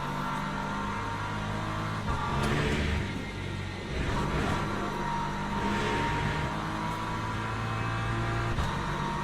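A race car in the video game Le Mans Ultimate roars as it accelerates hard, its engine note rising in steady, loud revving sweeps with a few quick gear-change dips.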